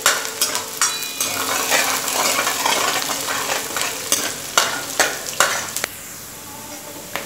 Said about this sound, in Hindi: हरी मिर्ची डाल देंगे और गैस को मीडियम कर देंगे ताकि अच्छे से प्याज और हरी मिर्ची भून जाए।